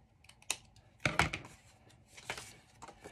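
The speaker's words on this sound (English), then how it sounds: "Just trim off the bottom with my scissors." A few short, crisp snips of scissors trimming vintage ephemera paper, close by and fairly quiet, with brief pauses between cuts.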